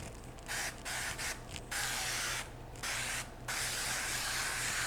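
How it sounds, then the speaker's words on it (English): Cooking oil is sprayed onto a pan for vegan cornbread, with several short hissing bursts of an aerosol can separated by brief pauses, close to the microphone. "All right, so you just wanna spray your pan."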